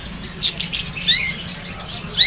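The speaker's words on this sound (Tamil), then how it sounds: "இங்கே பாருங்கள் இது வந்து லவ் பேர்ட்ஸு" Lovebirds in an aviary let out sharp, high-pitched squawks and chirps in irregular bursts, loud and close, with no voices present.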